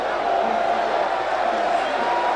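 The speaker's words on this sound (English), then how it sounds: "receives the applause from the fans" A boxing crowd applauds and cheers for Michael Decardi Nelson in his fight against Raymond Commey, a dense, steady wash of clapping and voices from a large arena audience that holds at the same loudness throughout.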